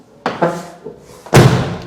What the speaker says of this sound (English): Now I'm going to close the doors with the big bam.